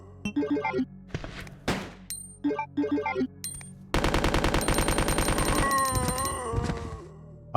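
A submachine gun firing in the classic Resident Evil 2, first in short separate bursts, then one long sustained stream of rapid shots, loud and close with ringing tails.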